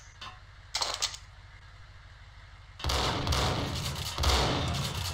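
Gunfire in the video game Max Payne: a couple of loud, broadband blasts with heavy low rumble, the first short and sharp, then a sustained burst of shots and crashing impacts filling the second half.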